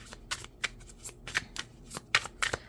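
Tarot cards are shuffled by hand before a draw, producing quick, crisp riffling bursts that come in close, uneven clusters for a few seconds with no voices.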